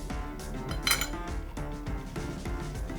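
A knife and fork work through a cooked filet mignon steak on a plate, sounding as soft scraping and repeated metallic clinks of cutlery against the dish, with one brighter clink partway through.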